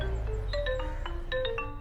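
An incoming call rings a phone with a short electronic melody of bright repeating notes, playing steadily and clearly with no voices over it.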